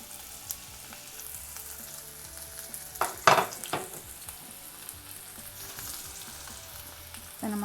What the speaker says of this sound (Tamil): இப்போ நம்ம நறுக்கி வச்சுருக்க வெங்காயத்தையும் பச்சை மிளகாவையும் சேர்த்துடலாம்.